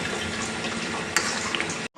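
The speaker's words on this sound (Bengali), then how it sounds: "কুকার ভর্তি। নাড়তে পারছি না এটাকে, নড়াচড়া একদম হচ্ছে না, দেখুন।" Meat packed into a full pressure cooker being stirred with effort, a steady dense sizzling-frying wash with scraping under it, close and continuous, ending in a brief silence.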